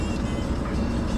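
A 2004 Saab 9-3 Arc with a 2.0T engine pulling under hard acceleration, heard from inside the cabin as a steady low, loud drone and road rumble.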